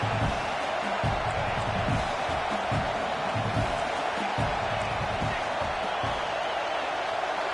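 Stadium crowd in a college football video game, Michigan versus Oklahoma State, a steady loud roar of massed voices that fills the whole stretch, with an announcer's voice talking over it.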